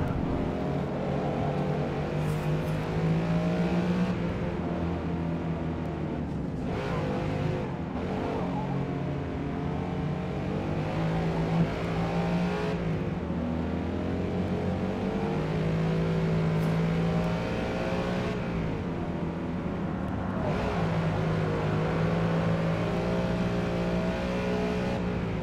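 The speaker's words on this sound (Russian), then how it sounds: "звук автомобиля, когда из кабины играешь." Engine of a Bugatti Chiron heard from the cockpit view in the racing game Forza Motorsport, a steady loud revving drone with rising and falling pitch sweeps through the gears, continuous and alone with no talk.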